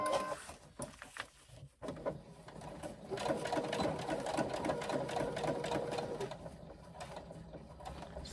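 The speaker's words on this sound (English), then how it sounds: "we are going to stitch the sides of our pocket shut" A sewing machine runs steadily, stitching the sides of a fabric pocket shut with a lining piece, a close mechanical whirring hum with rhythmic needle chatter, starting and stopping briefly before a longer continuous run.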